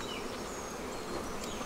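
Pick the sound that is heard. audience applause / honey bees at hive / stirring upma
honey bees at hive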